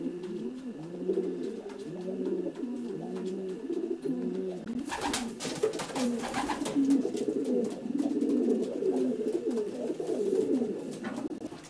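About 25 racing cock pigeons inside a widowhood loft with a slatted floor, cooing steadily in overlapping rhythmic phrases at close range, with some brief wing flutters and scuffing partway through.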